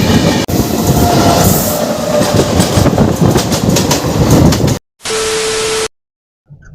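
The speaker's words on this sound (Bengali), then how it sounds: "Shalimar weekly express" The Puri–Shalimar Weekly Express rushes past on the adjacent line, loud and close, its wagons rattling with rhythmic clickety-clack over the rails before abrupt cuts.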